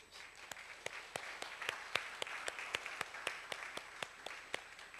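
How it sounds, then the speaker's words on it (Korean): A church congregation claps in welcome for visiting deacons, a steady rhythm of sharp, evenly spaced claps over a soft bed of scattered applause, moderately distant with no voices. "잠깐 일어나시면 우리 박수 환영하시겠습니다"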